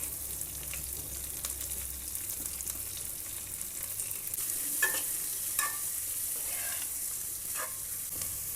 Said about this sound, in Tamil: கொஞ்சமாக உப்பு போட்டு வதக்கிக்கோங்க.